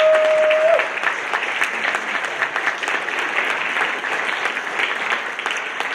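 Warm audience applause welcoming a lecturer at a talk on Paul's Letter to the Romans, steady dense clapping from a large crowd that begins after a brief tone and continues evenly throughout.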